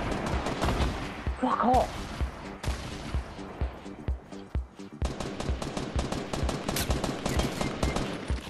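Gunfire in the video game Fortnite during a squad match, rapid machine-gun bursts and repeated shots, close and dense, with players shouting over them.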